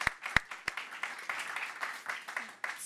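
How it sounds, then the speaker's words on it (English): An audience at a climate conference panel applauds the panelists. The clapping is fairly quiet, with a few sharp close claps at the start and a soft, uneven patter after them. "This is your round of applause to our panelists."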